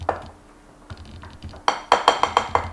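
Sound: whisking scone batter in a bowl

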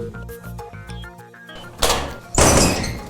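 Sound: sectional circuit breaker being switched on

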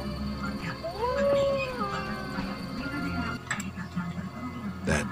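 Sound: dog howling in The Witcher video game

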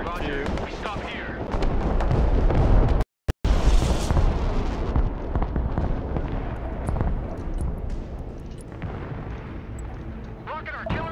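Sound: rocket artillery barrage in video game Broken Arrow

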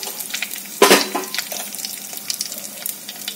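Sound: urad dal and mustard seeds sizzling in hot oil

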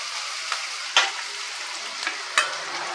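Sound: ginger garlic paste sautéing with onions in a pan

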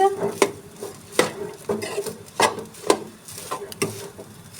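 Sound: stirring and mixing rice paratha dough with onion and salt

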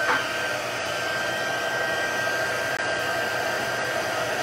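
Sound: heat tool heat setting Whisper White embossing

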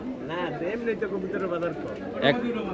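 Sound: pigeons at a pigeon market

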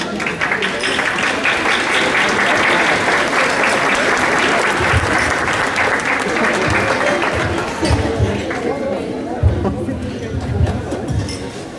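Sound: applause after a graduation toast

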